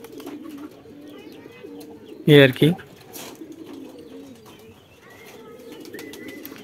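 Pigeons on an open rooftop coo in low, soft repeated phrases, with a short louder burst partway through and a brief spoken remark over them.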